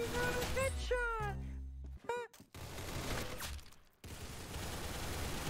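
Gunfire in the Roblox game Arsenal comes in rapid close bursts mixed with other game effects, with a voice talking over parts of it.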